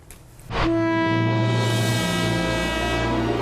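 An Alishan Forest Railway Fusen train sounds a loud, steady, sustained horn that starts abruptly after a brief low rumble and holds without a break to the end.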